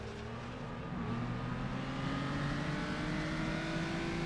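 Race car engine at the Isle of Man time trial, a steady, loud droning hum that holds a near-constant pitch with a slight rise, close and continuous with no voices.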